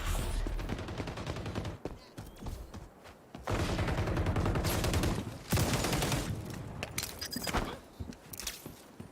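AK rifle fire in the shooter game XDefiant comes in loud, rapid automatic bursts separated by short pauses, with clattering mechanical sounds between the volleys.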